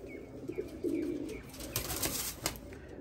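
A desi flying pigeon coos softly a few times, with low rolling calls near the start and faint fluttering or handling noise afterward.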